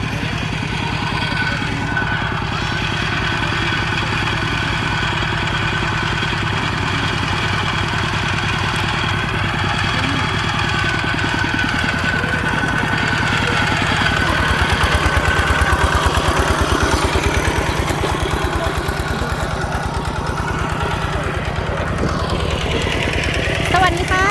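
A walking tractor plows a rice field beside a larger tractor, its engine chugging steadily and loudly at close range for the whole stretch, with a low, rough mechanical knock that swells slightly midway.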